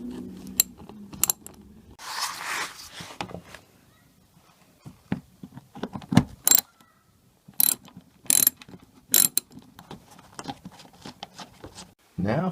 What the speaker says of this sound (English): just remove this 5 screws from the bottom of the bumper